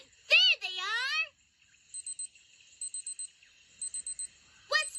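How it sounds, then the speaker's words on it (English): Repeated electronic beeping alarm of the swiper detector in the Dora the Explorer cartoon, sounding in short rhythmic bursts of three, with a voice speaking before it starts. "What's making that sound? The swiper detector."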